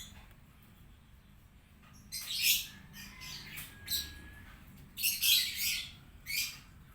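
Birds molting call in bursts over a quiet background, with sharp chirps and harsher squawks coming in clusters, some close and loud, separated by short pauses.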